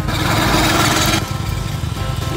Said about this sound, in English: What a cool motorbike!